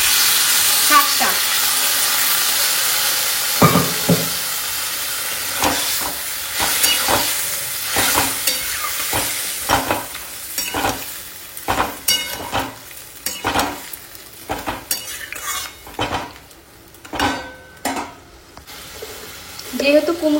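Boiled pumpkin greens stir-fried in oil in a home kitchen, a hissing sizzle at first, then irregular clattering stirs and scrapes growing busier toward the end, close by with no clear talking.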